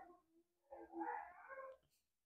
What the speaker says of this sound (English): There were some sirens going by, so our dogs are howling.